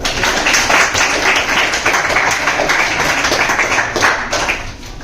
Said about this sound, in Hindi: टीचर्स के लिए एक बार जोर का तालियां